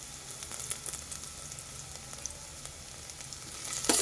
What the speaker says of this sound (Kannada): ಸಣ್ಣದಾಗಿ ಹೆಚ್ಚಿರ್ತಕ್ಕಂಥ ಬೆಳ್ಳುಳ್ಳಿ ಮತ್ತು ಶುಂಠಿನ ಹಾಕೋತಾ ಇದ್ದೀನಿ.